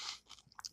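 Post Great Grains Banana Nut Crunch cereal being chewed close up, a quick run of crisp, dry crunches in a short burst.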